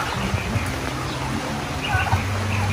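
Newly bought Rhode Island Red chickens, six hens and a rooster, in a backyard coop beside a house, give repeated throaty clucks and calls, fairly close and loud over a constant outdoor hiss.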